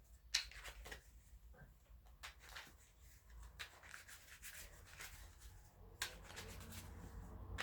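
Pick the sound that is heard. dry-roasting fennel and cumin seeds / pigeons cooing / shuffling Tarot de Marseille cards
shuffling Tarot de Marseille cards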